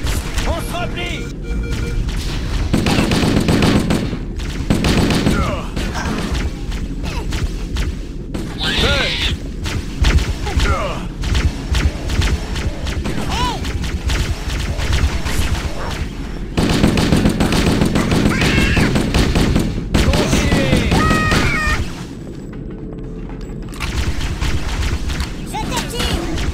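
Gunfire in the Halo video game: dense bursts of automatic weapon fire and heavy thumps run nearly nonstop at loud level, with people shouting and talking over the battle.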